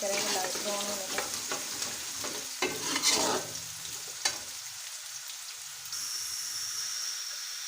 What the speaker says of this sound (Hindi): इसको लाइट ब्राउन हम इसको करेंगे, इसको फ्राई करेंगे लाइट ब्राउन होने तक।